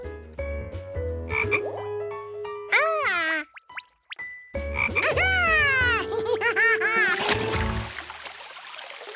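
A cartoon toy frog croaks in loud, bouncy, springy bursts with rising and falling sweeps, set among playful boings and watery plops, with a short near-silent pause midway.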